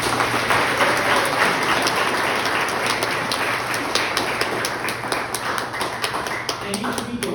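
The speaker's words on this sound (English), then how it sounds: "So I want to give a big round of applause for that." Applause for a volunteer crew at a camp's 95th anniversary gathering rolls on as a steady, moderately loud patter of many hands, thinning slightly toward the end.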